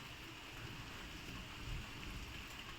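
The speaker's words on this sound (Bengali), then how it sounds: "কি দারুণ বৃষ্টি পড়ছে ঝিরঝির" Light rain falling outside a window, a faint, even patter and wash heard from indoors without any voices.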